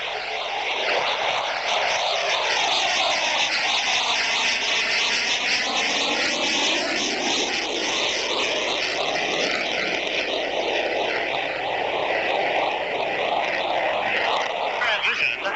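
Blue Angels jet performing a dirty roll on takeoff at an air show, a loud continuous roar with sweeping, phasing tones as it passes, under a public-address voice.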